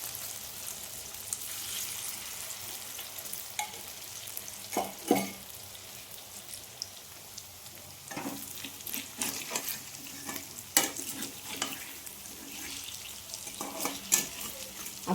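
Mixed vegetable pakora fritters of potato, carrot, onion and green chilli sizzle in hot oil, a soft steady crackle with occasional sharper pops and stirring clinks, faint and close without any talking.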